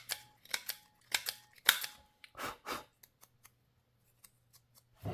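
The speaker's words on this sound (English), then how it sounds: "I will just snip off the corners." Scissors snip the corners off a paper ticket being made into a label, a string of quiet, crisp, close cuts in uneven bursts, some doubled, with short pauses between.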